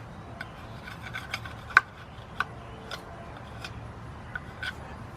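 A scraper works over a part from a 2003 Nissan Maxima GLE 3.5 engine during a partial rebuild, making faint rubbing rasps broken by a few sharp scraping ticks, close by and with no talk.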